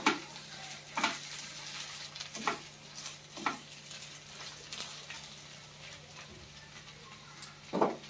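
Spiny gourd pieces fry in oil in a pan with a soft, steady sizzle. Periodic scraping stirs come roughly every second at first and then space out.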